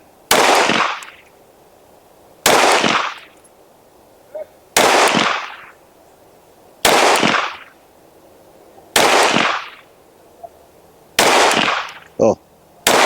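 Six sharp gunshots from a Canik Rival S pistol crack at an outdoor range, evenly spaced roughly two seconds apart, each loud and close with a short ringing decay.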